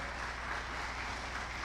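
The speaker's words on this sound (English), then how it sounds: "Please, round of applause for him as he comes forward." Audience applause at a conference session, steady continuous clapping from a large crowd throughout, moderately loud with no voices on top.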